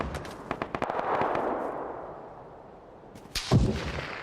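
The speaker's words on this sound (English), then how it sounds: "Somebody else is shooting at me." A quick burst of several sharp gunshots is followed by a lull, then a louder, heavier blast close by near the end.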